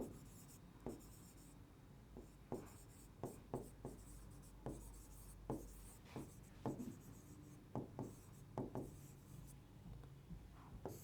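Pen writing on paper for a maths probability lesson, giving a long run of quiet, irregular scratchy strokes and taps with small pauses, heard on their own with no talking.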